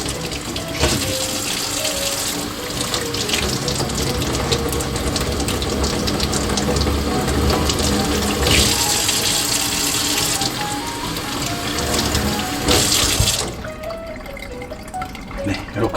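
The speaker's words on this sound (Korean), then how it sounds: "물은 이렇게 흠뻑 주시는 게 가장 좋습니다." Water poured generously from above onto the soil of a potted kalanchoe, a steady, close splashing flow that runs nearly continuously for about thirteen seconds before stopping, leaving quieter background.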